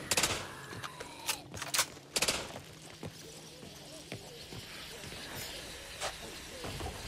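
Gunfire in the zombie shooter Back 4 Blood, sharp bursts of shots clustered early, then scattered single cracks over a hissing background, with game voices faintly underneath.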